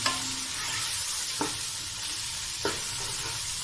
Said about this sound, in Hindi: टमाटर नरम होने तक पकाएंगे।